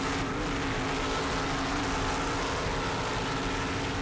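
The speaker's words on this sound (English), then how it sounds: "Powered by two 750 horsepower Sterling inboards, and you can hear them right now." Twin 750-horsepower Sterling inboard engines on a racing powerboat give a constant low drone with a rough, throbbing texture, holding steady at moderate volume throughout.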